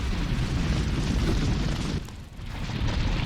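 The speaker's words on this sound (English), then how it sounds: "that tunneling sound you're hearing are these guys" A continuous low rumbling roar with a gritty, churning texture, briefly dipping before swelling again, as creatures tunnel underground in the video game Hollow Knight.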